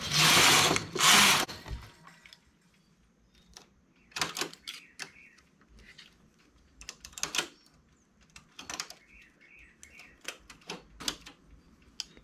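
A knitting machine carriage slides across the needle bed working an inclined raised stitch, with a loud rushing pass at the start followed by a series of sharp mechanical clacks and rattles, spaced irregularly.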